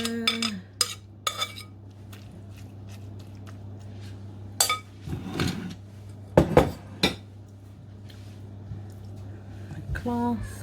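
Dishes being washed by hand, with scattered clinks and clatters of plates and cutlery at close range, several louder knocks and splashy handling bursts between quiet pauses, over a steady low hum.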